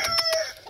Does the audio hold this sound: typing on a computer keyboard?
no